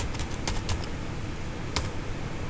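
Someone types a route print networking command on a computer keyboard, giving quick soft clusters of key taps with a brief pause between bursts, close and fairly quiet, with no talking.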